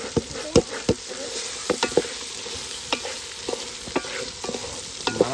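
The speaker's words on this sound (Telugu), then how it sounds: "మన చికెన్ ఫ్రై అయితే రెడీ అవుతుంది" Chicken fries in a pan outdoors in a palm oil grove, under a low steady sizzle broken by repeated sharp scraping clacks of a stirring utensil in an uneven rhythm, with no talking.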